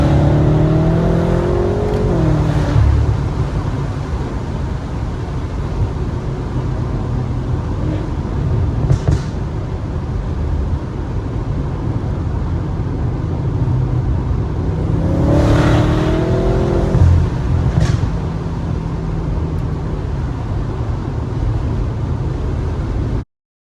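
A Stage 2 tuned BMW F10 M5 running an E85 fuel mix in Sport Plus accelerates hard, its engine note climbing through rising revs in two distinct pulls with a shift between, loud and close with no talk.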